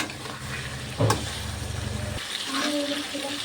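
Bhetki fish heads fry and are stirred in a pan, making a close, bubbling sizzle with a brief scraping clatter partway through. A voice speaks faintly beneath the cooking noise.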